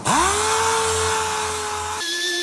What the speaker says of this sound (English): now we're just going straight into sanding this thing.